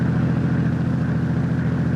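A truck engine runs with a steady, loud, low rumble throughout, close by and unbroken, with no voices over it, as a sound effect in a radio mystery drama.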